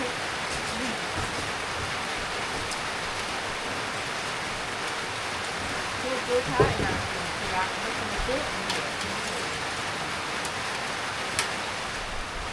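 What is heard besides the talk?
rain falling on a market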